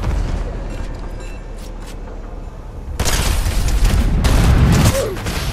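Burst SMG fire in Fortnite crackles in loud, rapid volleys, with several close bursts arriving after a quieter stretch of game ambience.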